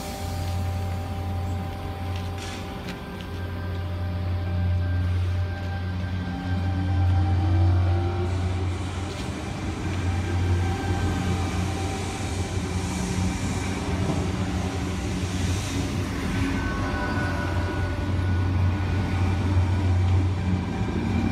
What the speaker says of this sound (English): Got another express Hurstville service stopping at Hurstville only,